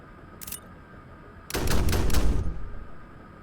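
Autocannon frag rounds from a drone in the sci-fi video game Drone Sector: a brief faint shot, then about a second of loud, rapid automatic bursts with booming low end.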